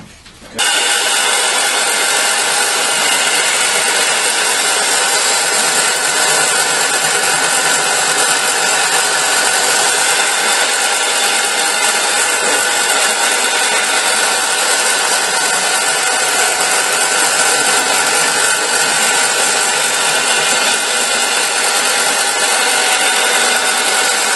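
Power sander smoothing the curved edge of a wooden sledge, a loud, steady abrasive whine that starts almost at once and runs unbroken to the end.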